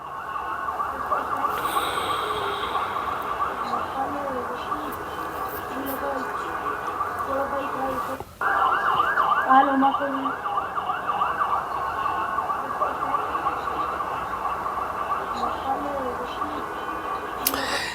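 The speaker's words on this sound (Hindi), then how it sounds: "इन हमलों के बीच ये एम्बुलेंसेस की आवाज़ें निकलकर सामने आ रही हैं" Ambulance sirens wailing in Jerusalem during attacks, a steady rising and falling tone at middle distance with traffic rumble underneath and a brief cut midway, under a voice talking.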